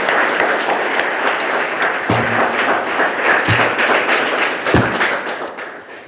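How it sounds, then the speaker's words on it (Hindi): A Sunday church congregation clapping, a dense steady patter of hands at close range, punctuated by a few sharp thumps. "आइए हम सेवक भाई के लिए धन्यवाद के लिए ताली बजाएंगे।"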